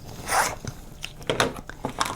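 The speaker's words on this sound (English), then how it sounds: "we're going to cut apart on that center line where it says cut apart on dash line" Scissors or a rotary cutter slicing through quilt fabric along a center dash line while making framed flying geese blocks, giving a few short crisp crunching and snipping bursts at close range with brief pauses between them.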